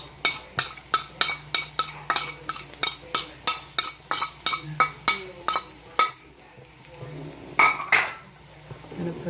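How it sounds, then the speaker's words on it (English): Chopped onions for an omelet are scraped into a pan with a metal utensil, producing a quick series of sharp clinks and knocks before a brief quiet and a couple of final taps. "Putting in my onions."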